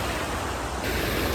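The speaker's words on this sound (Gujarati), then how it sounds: "પાણી બહુ જબરજસ્ત જઈ રહ્યું છે" Water rushing hard at Bhrigu Kund in dense forest, a broad steady roar like surf or a waterfall, loud and unbroken throughout with no voices.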